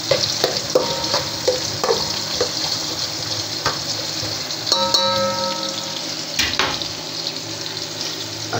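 Ginger sautéing in a pan as the base for chicken soup, a steady close sizzle with scraping stir strokes, a few light metallic clinks and a brief watery splash partway through.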